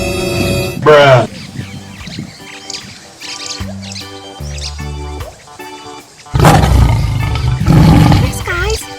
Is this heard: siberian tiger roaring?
yes